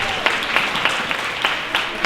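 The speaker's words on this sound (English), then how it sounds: "everybody should really give them the real applause and recognition that they deserve" Audience applause at a film premiere at the Rialto, a dense wash of clapping from a seated crowd with a few sharper claps standing out, steady and moderately loud for a couple of seconds.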